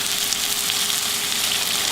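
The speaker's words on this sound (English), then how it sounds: "And then we're going to pour it into the skillet" Liquid stock thickened with cornstarch hits a hot skillet and sizzles in a steady, dense hiss, loud and close, continuous without pause for two seconds with no voices.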